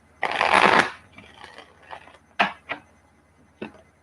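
Tarot cards are shuffled up close, beginning with a long riffling burst and then giving way to several short sharp snaps and flicks as the deck is handled, with quiet gaps between them.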